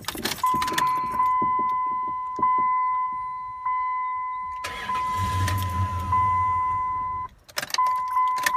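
A car with a fault that makes it stall is started with a key: keys jangle, a warning chime rings steadily, then the starter cranks and the engine catches briefly before the chime returns, close and alone.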